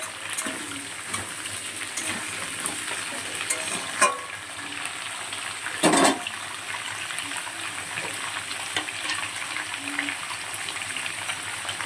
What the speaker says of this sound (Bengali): ভালো করে এটা চচ্চড়িটা রান্না করবো।